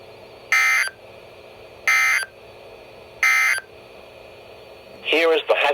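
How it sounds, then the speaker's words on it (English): NOAA weather radio Emergency Alert System tones during a required weekly test: three short identical data bursts spaced evenly apart, followed by the start of the alert tone. "This concludes the test of the NOAA weather radio warning alarm and emergency alert system."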